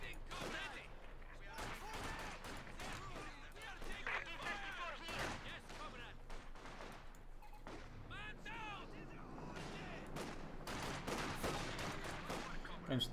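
Gunfire and artillery from the World War II strategy game Company of Heroes 2: dense volleys of rifle and machine-gun shots crack continuously, with heavier booms mixed in, all running under steady commentary.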